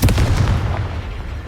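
A Confringo blasting spell explodes in Hogwarts Legacy, a heavy low boom up front that rumbles and decays over a second and a half, with no voices.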